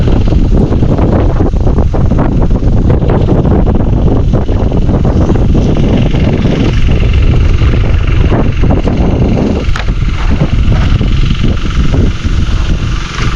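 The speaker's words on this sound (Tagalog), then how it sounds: "Lakas ng hangin, hindi makita." Constant heavy wind blasting across the microphone at a fish pond by a river in Bulacan, a dense low roar that never lets up for the whole stretch.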